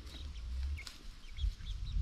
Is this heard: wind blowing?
no